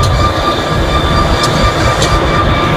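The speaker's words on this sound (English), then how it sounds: "An idling train on the tracks for 5 days" A freight train idles on railroad tracks near an oil spill site at a ranch, giving a loud, steady rumble with a constant mechanical drone and faint metallic ticks, and no voices over it.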